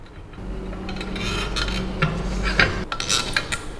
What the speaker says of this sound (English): we just tighten the clamp